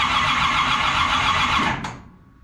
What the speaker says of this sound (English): this should start, or at least crank the motor over here